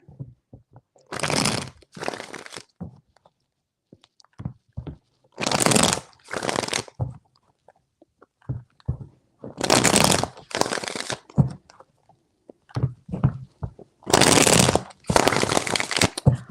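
A deck of tarot cards is shuffled in loud, crisp riffling bursts, about four rounds with short pauses and soft handling taps between them. No one speaks.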